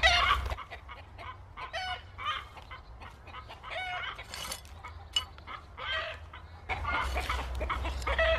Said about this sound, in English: Sounds like next door's chickens are having a go.